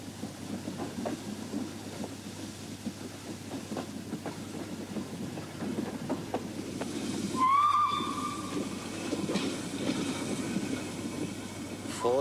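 A steam train whistle gives one clear, shrill blast partway through, over a steady low hiss and rumble of the locomotive and rail noise. The whistle is moderately distant, with no voices.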